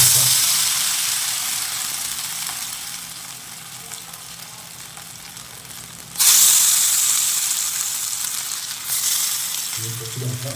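Fish goes into hot oil for a fish curry, setting off a loud bright sizzle that bursts up midway and then settles into a steady crackling fry, with a brief clatter near the end.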